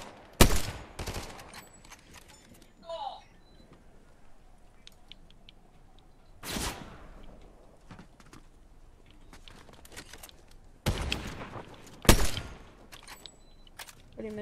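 Gunshots in a Fortnite match: several sharp, loud single shots spaced irregularly across the stretch, with smaller game clatter and footsteps between them and no talk.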